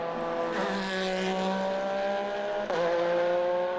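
A race car engine drones loudly and steadily, with a brief sharp exhaust pop and a sudden shift in engine pitch near the end.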